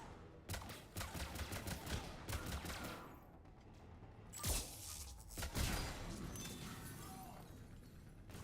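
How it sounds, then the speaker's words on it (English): Gunfire in the Mass Effect 3 video game: a steady barrage of shots over combat noise, with two louder, nearby blasts standing out midway through. "Where am I getting shot at from?"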